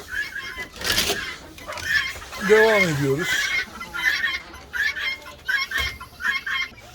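Chickens, white laying hens, cluck and squawk nearby, with a rising-and-falling call in the middle, while a person speaks briefly among them.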